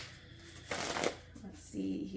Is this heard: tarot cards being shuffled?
yes